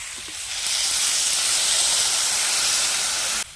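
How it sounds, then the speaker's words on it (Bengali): Water poured into a hot pan of bottle gourd curry bursts into a loud, steady steam hiss and sizzle that holds for about three seconds, then cuts off abruptly. "ভালো করে তরকারিটা কষিয়ে নিয়েছি এবার আমি জল দিয়ে দেবো"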